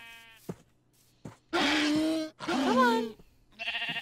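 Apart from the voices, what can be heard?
sheep bleating in a video game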